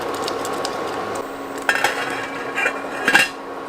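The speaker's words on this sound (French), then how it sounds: "On va mettre le couvercle." A lid goes onto a pot of keto barbecue sauce left to simmer. Several light metallic clinks and scrapes land close by over a quiet kitchen background, with no talking.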